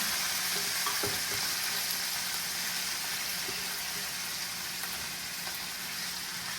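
Pork marinated with salt, pepper and a little garlic sizzles steadily in a hot pan, a continuous close frying hiss with faint crackles and an occasional light utensil tap.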